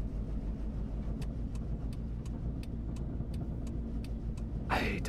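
A taxi in the game Taxi Life idles with a low, steady engine rumble throughout, cut by faint regular clicks, then a brief rising whoosh near the end.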